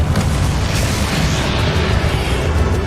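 A Confringo explosive spell in Hogwarts Legacy bursts as a loud, dense, continuous boom with rumbling low end, filling the whole moment without talk.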